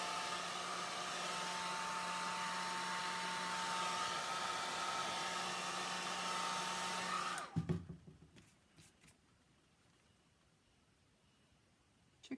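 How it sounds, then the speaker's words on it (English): A hair dryer blows steadily and loudly onto an alcohol ink chicken painting for about seven seconds, then switches off and leaves near silence with a few small clicks. "Here comes the hair dryer again."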